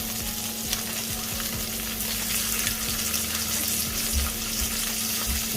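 Chicken wings fry in a small amount of oil, giving a loud, dense, crackling sizzle close by, with intermittent stirring and scraping sounds and no speech.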